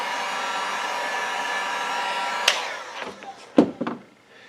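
A heat tool blasts hot air onto vinyl wrap on a laptop, a steady close whooshing roar that cuts off midway, followed by a few soft handling knocks and taps.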